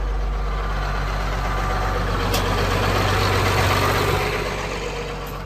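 A 1992 John Deere 4055 tractor idles loud and close on a cold morning while its 3-point hitch is lowered, a steady low diesel rumble with a slight rise in the middle and no talking.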